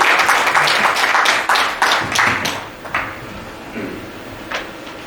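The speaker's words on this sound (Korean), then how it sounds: "박수 부탁드리겠습니다." Audience applause welcoming Professor Yoo Soon-seon, a Qingdao University of Technology lecturer, to a talk on Korean independence history. Dense clapping comes on loud and close, then thins into scattered claps that fade out over the last few seconds.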